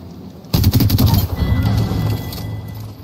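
Rapid bursts of automatic gunfire in a video game erupt after a brief quiet moment, a dense rattling volley that trails into scattered shots and echo.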